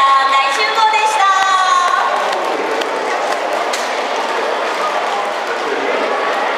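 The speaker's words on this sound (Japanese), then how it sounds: "はい、ではお客様皆様大きな拍手でお送りいただければと思います。" Large festival crowd claps steadily for costumed characters leaving an outdoor stage at a railway fair, dense sustained applause following a brief harmonic voice at the start.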